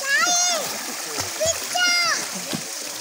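Children splash and swim in the water of a check dam, with steady splashing and watery rushing mixed with children's high voices calling out nearby.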